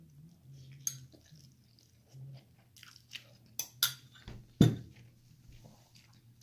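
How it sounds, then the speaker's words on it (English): Someone eats noodles with a full mouth, giving close, wet chewing and slurping with crunchy bites and soft squishes scattered over a quiet background hum. "I just slurped up them noodles and stuffed my whole mouth"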